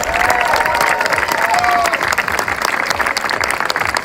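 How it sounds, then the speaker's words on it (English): A crowd at a lumberjack show on Grouse Mountain, Vancouver, claps steadily with a few whistles and cheers in the first seconds, then sustained applause continues to the end. "Let's have one more big round of applause for both outdoor lumberjacks."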